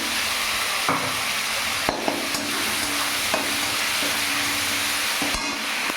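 Spices with cumin, ginger and tomato frying in a pan with browned onion, a steady close sizzle with occasional stirring knocks and scrapes, no voices.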